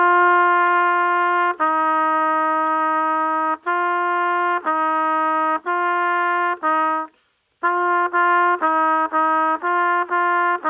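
A trumpet plays a tongued articulation exercise that brings in the first valve: crisp, evenly attacked sustained notes in a rhythmic run, loud and close, with a short gap before the pattern resumes.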